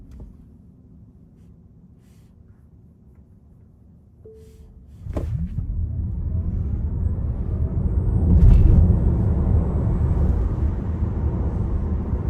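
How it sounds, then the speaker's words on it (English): A Tesla Model Y Launch Series accelerates from a quiet cabin hum into a swelling road and motor roar that builds and holds loud as the car speeds up. "Accelerating again, the car is very fast."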